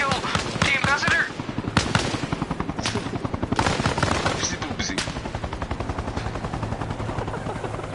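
Rapid gunfire crackles through a tactical military shooter battle in Arma Reforger, with sniper rifle shots among dense bursts and near, loud sharp reports over a steady mechanical drone, with voices faintly underneath.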